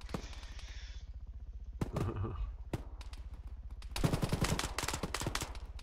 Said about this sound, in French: T'entends les grosses rafales?